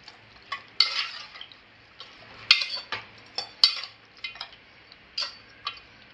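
A spoon stirs mutton coated in masala in a Malvani-style pan, giving irregular light clinks and scrapes with short soft sizzling between them, close and quiet.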